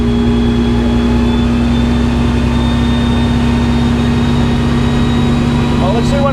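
A fire truck's pump engine runs at high, steady revs, a loud constant mechanical drone with a sustained tonal hum throughout, and a voice speaks briefly over it.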